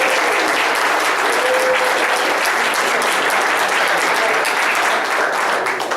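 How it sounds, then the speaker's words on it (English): Loud, sustained applause from an audience at a Tea Party sheriff forum dinner, many hands clapping in a thick continuous wash with no voices standing out. "How about a round of applause for all this food"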